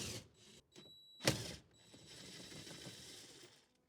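Ratchet wrench working loose the pedal bracket bolts inside the cab of a 1987 Toyota Hilux, a few quick clicking bursts and one sharp close metallic clunk, followed by steady mechanical ratcheting.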